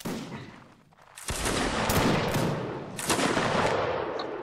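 Musket volleys in a Napoleonic Wars line battle crackle out as ragged, overlapping shots after a short quiet start, building into a loud, sustained fusillade with a second wave near the end.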